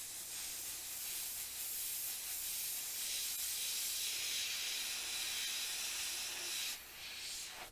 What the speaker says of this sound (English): I'm going to come at this at kind of an extreme angle and just really let the overspray do the work